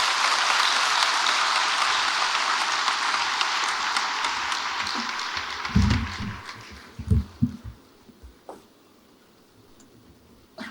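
A conference audience at a plenary session applauds after a presentation, the clapping loud and full at first and then thinning out. Handling bumps and a few scattered claps follow as it dies away.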